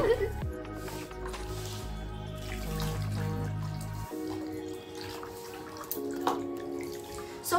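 Water from a tap splashes and drips over a puppy in a bowl during its first bath, a soft running trickle at close range that stops partway through, with voices talking and a faint pitched tone in the room.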